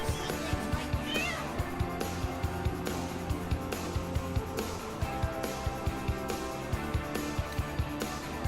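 A cat in Baldur's Gate 3 meows clearly several times over a dense, steady music bed, with a regular pulsing beat running throughout.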